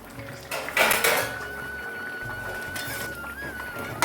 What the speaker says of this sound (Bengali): ঢাকনাটা আমি তুলে নিচ্ছি